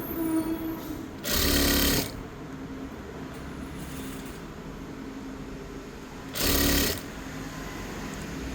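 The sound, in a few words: sewing machine stitching a girl's shirt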